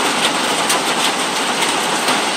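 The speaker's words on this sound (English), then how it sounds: "It is getting louder as the rain gets harder." Heavy rain pours as a loud, dense, unbroken roar of drops on a surface, steady across the whole stretch with no speech.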